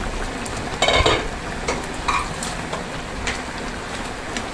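Vegetables and shrimp being stirred in a frying pan, with a utensil scraping and clinking in a few bursts over a steady sizzle.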